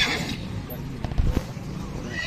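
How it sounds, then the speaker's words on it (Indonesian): A horse whinnies briefly at an outdoor horse market amid background noise and nearby chatter, with a short burst of louder low thumps in the middle. "Gagak memang kuda ini, Deng."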